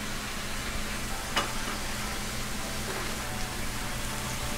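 Ginger and garlic paste fries with onion paste in oil, a steady soft sizzle with one faint stirring scrape, close and unbroken throughout.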